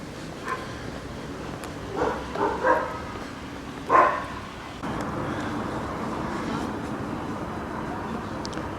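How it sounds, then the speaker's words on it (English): A German Shepherd barks a few short times at a distance over steady traffic noise and a passing vehicle, then the road hum continues alone. "Another German Shepherd, very popular dog here."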